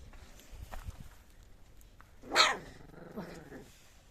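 A single sharp bark from a mother dog near her puppies, close by, followed by a lower, rougher growling sound, with quiet background and faint shuffling before it.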